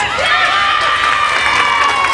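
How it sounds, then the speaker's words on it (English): Crowd cheering sympathetically at a Britain's Strongest Man competition, a steady, moderately loud mass of voices and whoops holding throughout. "So a sympathetic cheer there for George."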